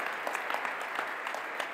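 Steady applause from hundreds of employees gathered at a Canadian Space Agency astronaut announcement, dense and continuous clapping filling the room without voices.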